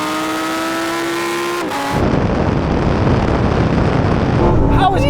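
Several sports cars, a Ferrari 296, McLaren 750S, Lamborghini Huracan Performante and Porsche 911 Turbo, launch from a 50 rolling start in a drag race, with one engine note rising through a gear before a loud, dense roar of wind and engines takes over.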